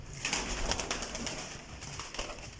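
Golden pigeons coo in soft, repeated throaty calls close by, set against a steady wash of hiss and rustle from the loft. No one speaks.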